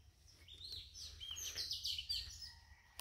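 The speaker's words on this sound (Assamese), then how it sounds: "আমাৰ বাৰীখনত চৰাই চিৰিকটি মাত শুনিব দেই" Small birds chirping and tweeting in a home garden, bright overlapping calls close by with a brief sharp note near the end, no talking.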